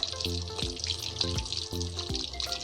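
Salted catfish sizzles in a frying pan as the pieces are flipped back and forth, a steady hissing sizzle broken by a few short scraping turns, with a low tonal hum underneath.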